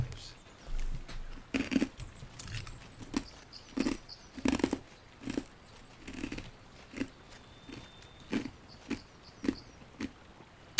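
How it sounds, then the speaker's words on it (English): Someone crunches ice in irregular, close, sharp bites, a dozen or so crunches spread across the stretch with quiet gaps between them. "Yeah, crunch ice louder, would you?"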